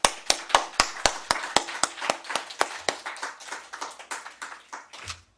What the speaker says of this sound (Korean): 우리에게 이런 승리를 주신 하나님께 우리 감사의 박수를 올려드립시다